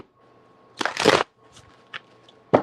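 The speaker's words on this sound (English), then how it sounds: "let's shuffle these first" A deck of playing cards is shuffled during an astrology tarot reading, with one loud riffling burst followed by a few sharp, brief card snaps, close and clear against near silence.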